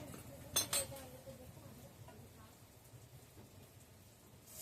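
Water is poured over spices cooked down in a pan for a dried-fish curry, giving a faint hissing, rain-like sizzle after a brief clink of utensils near the start.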